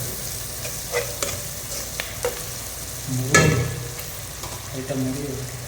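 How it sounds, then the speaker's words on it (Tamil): Onions frying in sunflower oil while being stirred, a constant sizzle broken by scraping strokes of a spoon against the pan and occasional louder clatters, close and clear. "ஸோ பாருங்கள் நண்பா இப்போ வெங்காயம் நல்லா வெந்துட்டுருக்கு"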